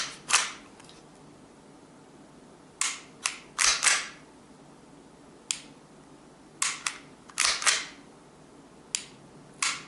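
A TM M&P9 VTAC airsoft pistol gives sharp, close mechanical clicks from trigger pulls and resets, sounding singly and in quick pairs with short pauses between.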